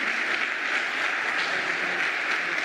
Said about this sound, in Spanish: démosles un aplauso a nuestros maestros y especialistas